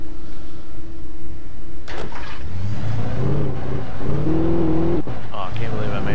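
A pickup truck driven in the video game Alan Wake: a steady engine drone rises and shifts pitch as it accelerates, with a thud midway and someone talking over the motor throughout.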